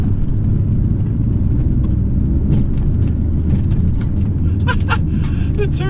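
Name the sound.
Chrysler TC 16v turbo engine accelerating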